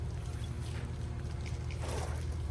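A pressure washer with a 7-foot aluminum wand and turbo nozzle running at half RPM on pine-needle-clogged pool screens, a steady loud broadband hiss and engine rumble with no letup.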